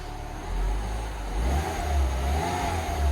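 Rebuilt engine of an R56 Mini Cooper S running, a close, smooth mid-pitched hum that rises through a few gentle revs over a low, steady rumble, with no talking.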